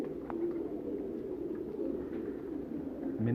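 Pigeon cooing from a loft of Lakha fancy pigeons kept for high flying, a steady low murmuring coo running throughout at moderate distance, with a brief louder rustle near the end.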